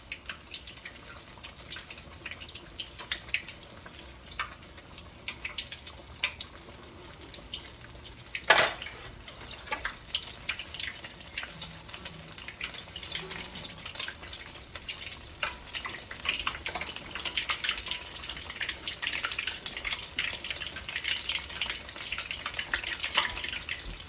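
Battered sausage and cheese sticks bubbling in hot oil over medium-high heat, a soft steady crackle and sizzle with occasional sharper pops and one louder clatter partway through.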